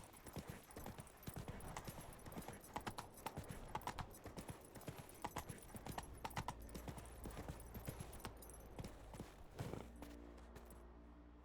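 Horse hooves clip-clopping at a steady gallop in The Witcher 3 video game, a continuous rhythmic beat with busy game sounds layered over it and brief whinny-like accents.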